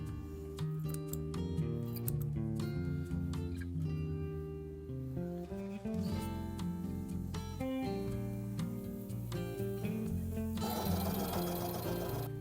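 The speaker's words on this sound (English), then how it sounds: "Once the crotches are joined, you sew the sides," A domestic sewing machine runs steadily as it stitches the side seams of a garment, front and back panels joined, with a close mechanical whir and needle tick and a brief snip near the end.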